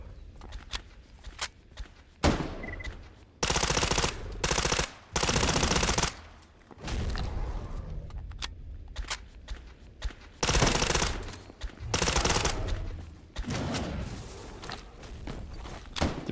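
Gunfire from a gun in the video game STALKER GAMMA: loud automatic bursts and single shots rattle in repeated clusters, with footsteps and quieter gaps between the volleys.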